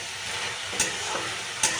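Steady frying sizzle of fenugreek greens with broken lentil dumplings in a pan, with a couple of brief scraping stirs, no voices.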